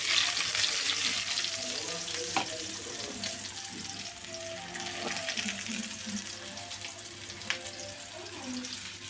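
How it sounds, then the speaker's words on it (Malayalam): Onions sautéing in a hot pan give a steady, close sizzle with occasional stirring scrapes and small pops, and no voices over it. "സവോള ഇട്ടത് നല്ലപോലെ നല്ല ചുവന്ന് വരുന്ന രീതിയിൽ നമ്മൾ ഇത് വതക്കിയെടുക്കണം."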